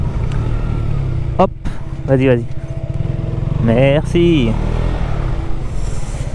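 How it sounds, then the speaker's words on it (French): A 2019 KTM Duke 125 motorcycle engine runs close by with a steady, buzzing single-cylinder drone and slight swells in pitch, while someone speaks a few short phrases over it. "je suis sur une petite Duke 125 de 2019"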